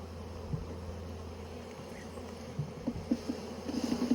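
Honeybees hum at an opened beehive during a queen check, a low steady drone with a few louder buzzes passing close toward the end; no talk.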